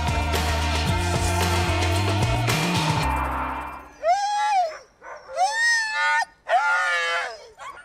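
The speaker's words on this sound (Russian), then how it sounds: "собачий лай стал главным звуковым сопровождением парка Сокольники" Sled dogs gathered in Sokolniki Park in Moscow during a late-December event let out loud, overlapping howling yelps in three close bursts, following a stretch of music.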